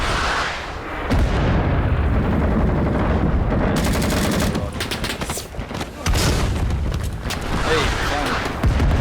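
A weapons barrage in the naval combat game Cold Waters: dense, loud sustained firing and booming explosions fill the whole span, with a brief dip midway, as players talk over it.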